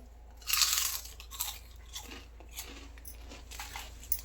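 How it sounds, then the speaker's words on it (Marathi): Homemade rice papad crunches between the teeth in a few crisp, close bites followed by quieter chewing crackles. "चल तुम्हाला कुरुम कुरुम आवाज पापड खाऊन दाखवते"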